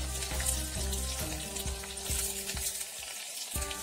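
Shallots and garlic sizzle in hot oil for a chutney, a steady close frying hiss with a few soft stirring knocks and no talk.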